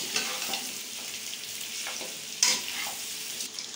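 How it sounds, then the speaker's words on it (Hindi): Beef pieces fry in a pot for palao with a steady, loud broadband sizzle, punctuated by occasional scraping stirs and a sharper clank near the middle, recorded close with no voices. "गोश्त को ऐड करने के बाद हम इसको तकरीबन 2 मिनट के लिए पकाएंगे।"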